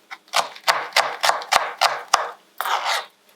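Knife chopping food on a board while making spaghetti bolognaise, a run of about nine sharp, fairly regular cuts close up, each with a short scraping tail.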